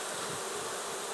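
A swarm of bees buzzes in a dense, steady drone, loud and close, with no other sounds.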